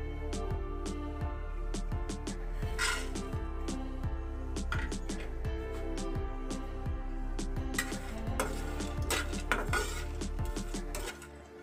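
Whole spices tossed and stirred in an empty frying pan on a stove, giving rhythmic metallic scrapes, taps and light clinks that repeat steadily, close and fairly quiet.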